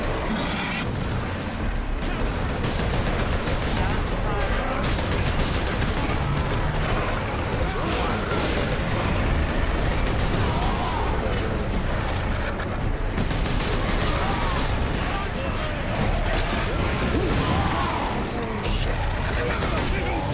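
Gunfire from Warhammer 40,000: Space Marine: dense, continuous bursts of shooting and booming impacts fill the whole stretch, loud and close, with a voice shouting over the battle at times.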